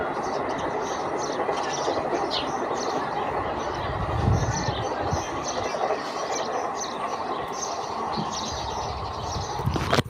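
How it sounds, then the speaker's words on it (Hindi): A train runs past very close to a house, a steady loud rumble and clatter lasting throughout, with birds chirping faintly above it. "ये जा रही है शायद गाइस ट्रेन"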